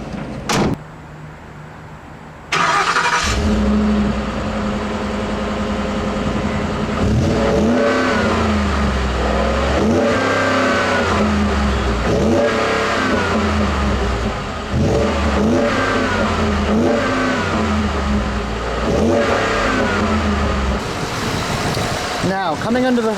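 A 2013 Ford F-150 XLT's 5-liter V8 revs repeatedly after a door sound, a loud cycling engine roar rising and falling in regular bursts close by.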